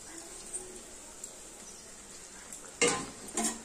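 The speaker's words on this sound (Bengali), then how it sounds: "ফুটে গেছে আমার পুরো ঝোল, পুরো ফুটে গেছে। এবার এক এক করে মাছ দিয়ে দেবো।" Fried fish pieces are dropped one at a time into a boiling spiced fish curry, making two short splashing sizzles near the end after a quiet, steady background hiss.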